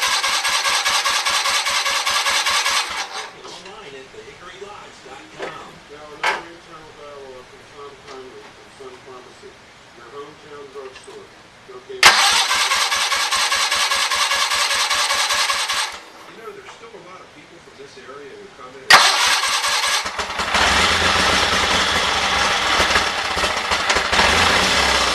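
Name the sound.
Power King tractor engine starting and running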